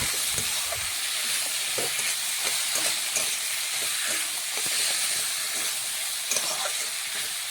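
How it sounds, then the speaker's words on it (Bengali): Vegetables frying together with a turmeric and chilli spice paste in a pan, cooking with cabbage; a steady close sizzle and hiss runs throughout with faint clicks of stirring, no talking. "দিয়ে সমস্ত কিছু একসাথে আমি মিশিয়ে একটু ভালোভাবে ভেজে নিচ্ছি সবজিগুলো"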